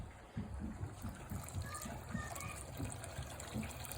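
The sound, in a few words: liquid poured into a soup pot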